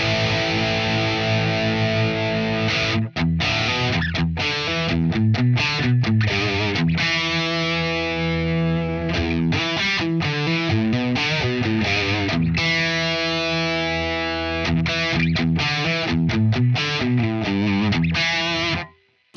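Loud, sustained distorted electric guitar riffing through a Celestion Plus speaker impulse response, with chugging palm-muted chords and rhythmic stops running nearly twenty seconds, up close and without talk.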